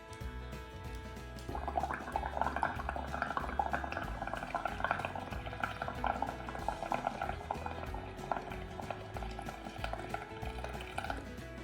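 Sports drink fizzing and bubbling vigorously after dishwashing soap is added, a steady dense crackle of popping foam that starts after a short quiet moment and keeps going, close and alone.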